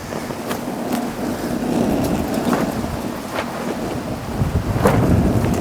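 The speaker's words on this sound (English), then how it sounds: "It is windy out here." Wind blows outdoors beside a pizza oven being tested, a loud continuous broadband rush with gusty swells and a few sharp knocks, no talking.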